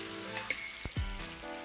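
Chicken sizzling in a pan of hot fat as it is basted with rosemary, a steady close fry hiss with a few spoon clinks and a soft splash of poured fat.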